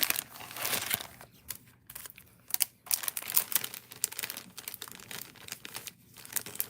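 Pattern paper for cardmaking is handled close up, crinkling and rustling in irregular bursts with brief quiet gaps between sheets being moved.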